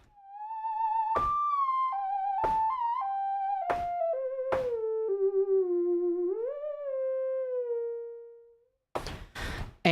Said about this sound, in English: first there's a really short convolution reverb,